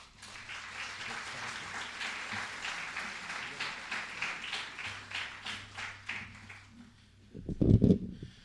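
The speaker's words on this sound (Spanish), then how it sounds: "Les pido un aplauso, por favor." Audience applause fills a conference hall after a talk on victims' access to justice in Mexico, a steady, moderate wash of many hands with a louder thump near the end.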